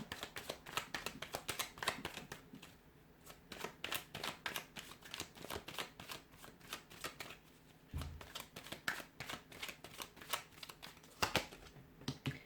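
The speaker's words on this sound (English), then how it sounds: "I'm going to give the cards a shuffle" Tarot cards shuffled over and over in fast riffling bursts, with brief pauses between, close up and soft.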